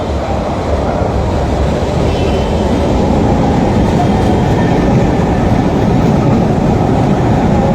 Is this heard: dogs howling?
no